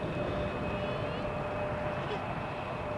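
An aircraft vacates the runway after landing on runway 18R at Amsterdam Schiphol, giving a steady mid-distance jet rumble with a thin, sustained engine whine held throughout.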